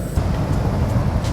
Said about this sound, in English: Sounds really strange when somebody drove over.